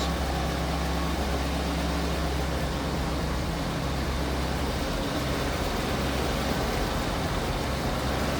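A 1953 Packard Cavalier convertible engine idles low and steady from close behind the car, a constant deep rumble that stays even for the whole stretch with no revving.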